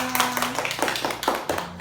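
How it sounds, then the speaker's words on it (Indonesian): Classroom of children clapping their hands together in a short sequence of distinct, rhythmic claps, near and moderately loud, with a faint voice underneath. "Baik, kita tepuk tangan."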